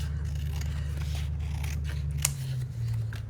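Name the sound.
scissors trimming a watercolor swatch tag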